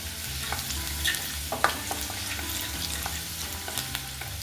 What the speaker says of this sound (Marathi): 1-2 मिनिटं ही फोडणी आपल्याला परतून घ्यायची आहे